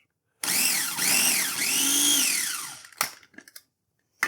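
A food processor pulses butter with black pepper in three short bursts, the motor whirring up and down loudly, followed by clatter and scraping.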